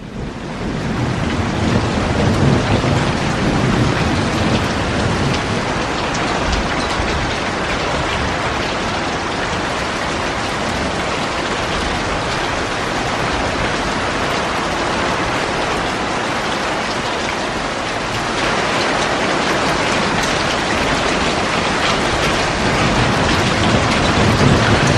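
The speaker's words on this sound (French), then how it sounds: "On a reçu une bonne petite pluie là qui nous a bien calmé. Enfin on va dire plutôt une tempête de grêle." Heavy rain mixed with hail pours steadily over a vegetable garden during a June storm, a dense, continuous roar of loud hammering with no gaps and no voices for the full length.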